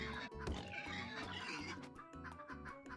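Pigs in the video game Turnip Boy Commits Tax Evasion give repeated short, grunting oinks in a quick, regular pulse, faint and layered over game music.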